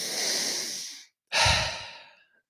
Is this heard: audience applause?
no